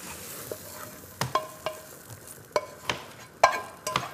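Onion, garlic and coriander fry in a pan, a soft sizzle under repeated sharp clicks and scrapes of a utensil stirring against the pan at an uneven rhythm, close and fairly quiet.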